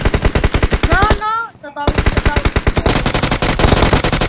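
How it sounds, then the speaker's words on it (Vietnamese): Rapid automatic gunfire in the shooter game PUBG Mobile, loud, close bursts of rattling shots that cut out briefly midway and then resume in fast repeated volleys, with a voice faintly underneath. "Sao, bạn dám bắn đồng đội tôi hả?"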